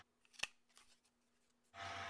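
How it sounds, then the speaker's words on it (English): A We R Memory Keepers Crocodile quarter-inch corner rounder punches through the bottom edge of a paper card: one sharp snap early on, then a louder rough rasp of paper and tool near the end. "I use We Are Memory Keeper's tool Crocodile 1/4 of an inch, and I round the bottom edge of the paper."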